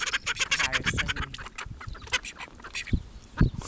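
Several ducks quack repeatedly in a busy, overlapping chorus, fairly close, with short harsh calls scattered throughout.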